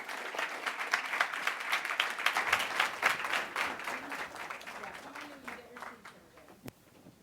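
An audience applauds to welcome Ursula Burns and Jon H.M. onstage for a conversation. The clapping is steady and dense for about six seconds, then fades to scattered claps near the end.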